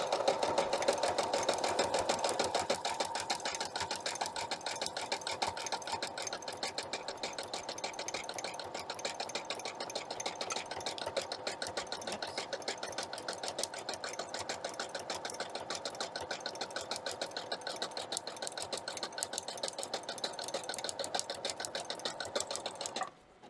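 A sewing machine stitches a back stitch on a hooded towel, running in a steady, fast continuous whir from start to finish, close and fairly loud with no talking.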